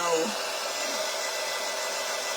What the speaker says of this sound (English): All right, so let me dry these really quick.